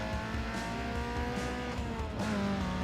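A street-racing car's engine over-revs in Need For Speed Underground 2, a loud sustained buzzing drone with steady harmonics that jumps in pitch near the end, close and alone without speech.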